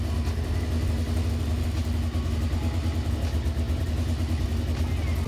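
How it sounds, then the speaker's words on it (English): A motorcycle engine idles steadily while warming up before an oil change, with a low, even rumble that holds without revving. "we are going to turn on the motorcycle, and we are going to let it idle"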